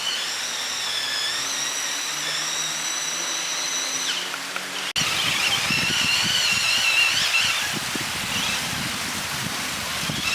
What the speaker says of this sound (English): Somebody's got a little remote control truck over there.